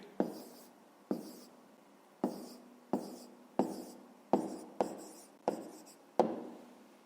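Someone writes down the answer to a maths exercise by hand, with about nine sharp, close strokes in an uneven rhythm, each followed by a short scratch of pen on paper, in a quiet room.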